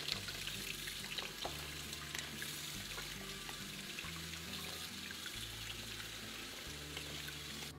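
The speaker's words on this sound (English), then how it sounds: "Rinse the cabbage in running water." Cabbage rinsed under a running kitchen tap while making kimchi, a steady broadband rush of water lasting throughout with a low background hum, no voices.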